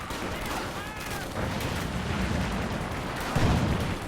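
In the Company of Heroes 2 strategy game, an infantry support gun fires amid a battle, with rumbling distant gunfire and a deeper boom near the end under a faint, continuous battlefield din.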